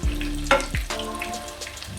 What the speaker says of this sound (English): once they're all in the pan frying away, just flip them once.